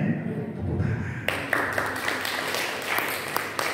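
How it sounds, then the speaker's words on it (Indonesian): Applause from a church congregation during a sermon, a sustained patter of clapping hands that rises abruptly and continues steadily at moderate volume. "Amin. Tepuk tangan."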